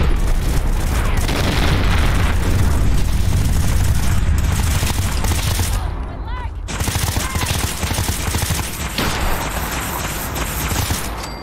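Enemy gunfire in Fallout 4 VR, loud sustained bursts of rapid automatic shots and booming reports that briefly drop off midway then resume, dense and close throughout.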